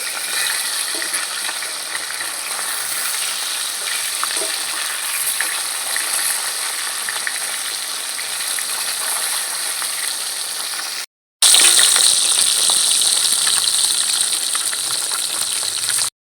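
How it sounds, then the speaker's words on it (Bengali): Katla fish pieces frying in hot oil, a continuous loud crackling sizzle that cuts out briefly before resuming even stronger, no speech. "মাছগুলো আমি এখন ভেজে নিচ্ছি"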